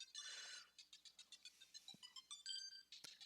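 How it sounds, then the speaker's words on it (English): A mobile phone rings with a quiet, repeating electronic ringtone pattern of short bright pulses, faint and close, heard alone. "my phone is ringing."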